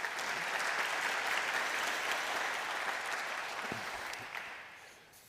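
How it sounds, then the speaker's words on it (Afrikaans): A church congregation applauding at a Reformation Day communion service, a steady wash of many hands clapping that gradually fades out toward the end. "Kom ons gee vir hulle almal 'n hande klap."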